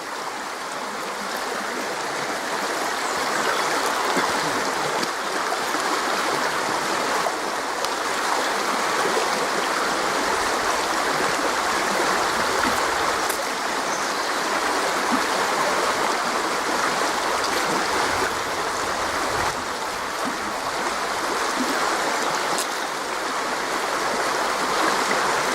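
A river stream flows in a steady, continuous rush of water, close and unbroken for the whole stretch, with no talking over it.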